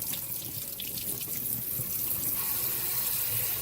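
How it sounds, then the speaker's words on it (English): Tap water runs steadily into a kitchen sink as cucumbers are washed under the faucet, a continuous close splashing hiss with no voices. "Let's get those cucumbers washed."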